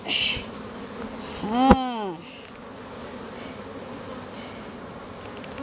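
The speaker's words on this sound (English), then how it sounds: "Look at all those bees." Honey bees buzzing around a hive frame during honey extraction, a steady faint drone throughout with a brief louder sweeping buzz as one flies close past.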